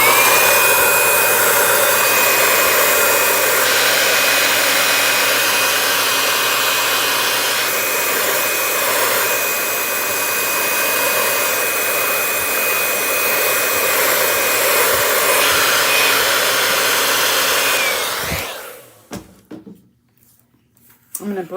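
A hair dryer blows steadily on a painted shiplap Christmas sign, a loud close whooshing roar with a thin whine that runs unbroken for about eighteen seconds before cutting off, leaving quiet handling noises.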